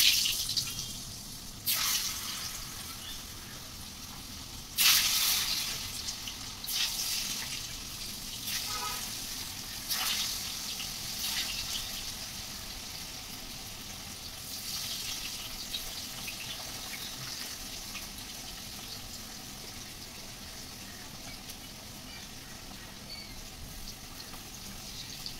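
Potatoes sizzling in hot oil in a home kitchen, a continuous crackling fry with sharper spatters near the start that settles into a softer, steady hiss.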